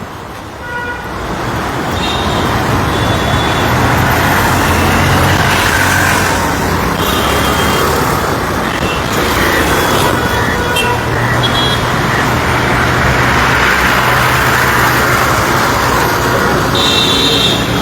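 Busy road traffic in Chandivali with cars and large vehicles rumbling past continuously, loud and close, with repeated horn toots cutting through the steady engine din.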